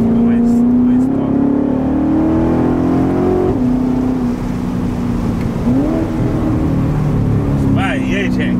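A Corvette's engine idles with a deep rumble, then climbs in pitch through several revs and settles back, loud and close, with voices audible faintly at the end.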